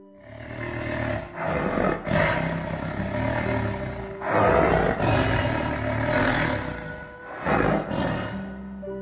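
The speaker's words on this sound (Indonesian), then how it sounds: "auman harimau merupakan salah satu suara paling menakutkan di alam liar." A tiger roars repeatedly, deep rumbling bursts rising and falling in long waves, loud and close, with brief pauses between the roars.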